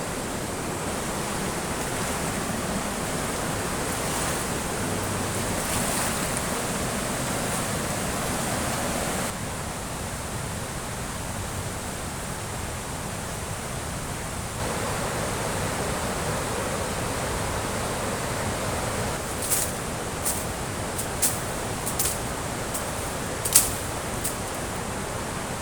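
Heavy rain and a rising river current flow close to a tent at a riverside campsite, a dense, steady roar of water that persists throughout, with a few sharp clicks or drips near the end.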